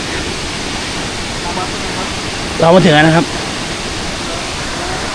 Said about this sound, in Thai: นี่น้ำตกนะครับ